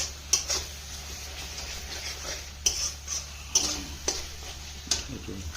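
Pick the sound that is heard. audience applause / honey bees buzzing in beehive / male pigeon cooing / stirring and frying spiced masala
stirring and frying spiced masala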